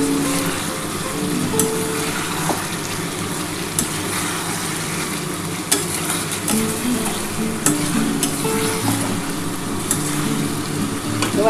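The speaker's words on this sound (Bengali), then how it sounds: "এবার আমি জলটা দিয়ে দিচ্ছি" Boiling hot water goes into a pan of sizzling egg curry masala, a loud, steady frying hiss and bubbling with occasional sharp spits and clinks of stirring throughout, no voices.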